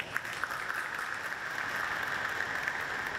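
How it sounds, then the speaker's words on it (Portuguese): Applause at a formal solemn session in a legislative assembly hall, a steady, even wash of many hands clapping at moderate distance, continuous throughout with no pauses or voices. "a quem eu peço uma salva de palmas."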